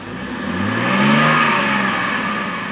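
A 2012 BMW X3 xDrive28i SUV engine revs up under throttle, the pitch climbing to a peak then easing back down, heard close with no talking.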